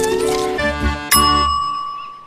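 A bright cartoon kitchen timer dings, its ringing tone sustained and decaying, with a second sharper strike near the middle of the sound before it fades out alone.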